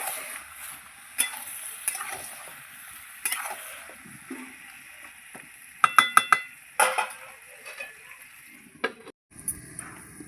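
A pan of cabbage curry with fish head being stirred, quiet sizzling under a series of sharp metallic clinks and scrapes from a spoon, a few in quick succession near the middle.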